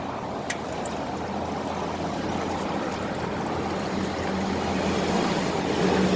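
Engine oil draining from a 2002 Chevrolet Tahoe, a steady, continuous pouring stream that splashes into a pan, close and moderately loud, with no talking.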